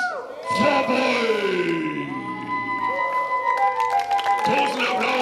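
A crowd cheers and applauds at a driving-school battle event, with loud shouts and whoops over a continuous wash of clapping and voices.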